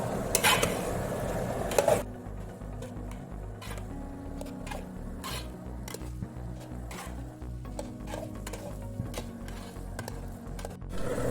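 A spoon scrapes and stirs Meghana-style chicken biryani masala in a pot over a low flame, a close, rhythmic run of clinking scrapes after a louder clatter at the start, with no talking.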